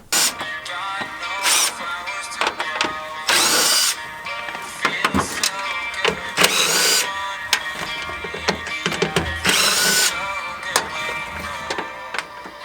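Power tool backing out bolts on an NA Mazda Miata during a soft top install: several short, close whirring bursts separated by pauses, clinks and handling noise.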